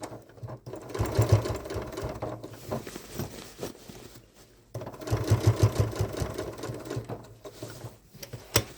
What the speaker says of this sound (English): And now we're going to sew across.